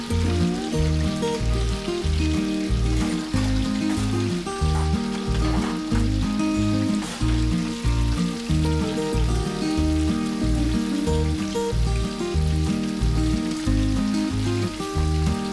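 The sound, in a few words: soya chunks deep frying in oil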